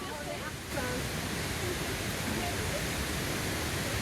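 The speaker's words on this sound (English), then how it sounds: "Unlike many Thai waterfalls that shrink to a trickle in the dry season, Wachirathan remains thunderous and impressive all year long." Wachirathan waterfall in Thailand, a large year-round cascade, roars as a dense, steady wash of broadband noise that swells slightly after the first moment and stays loud and continuous.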